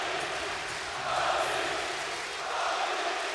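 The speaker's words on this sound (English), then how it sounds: "he gets a lift from the crowd and is cheering Tony, Tony" Crowd at a FIBA EuroBasket 2015 basketball game between Spain and France cheering for Tony Parker, a broad roar of many voices swelling twice, fairly distant and sustained.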